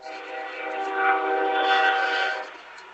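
A passing freight or commuter train sounds a sustained multi-tone horn at night near a high school football field in Fort Morgan, a steady chord swelling and holding for several seconds before fading, heard from a moderate distance.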